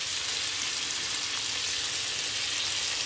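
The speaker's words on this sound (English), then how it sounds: "we are frying some chicken over here." Chicken frying in a pan gives off a steady, dense sizzle that runs unbroken and fairly close, with no voices over it.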